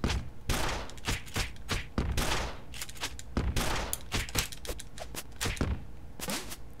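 Grenades go off in TMNT: Shredder's Revenge during a fight with Rocksteady, a dense, loud barrage of sharp blasts and thuds that repeats again and again throughout.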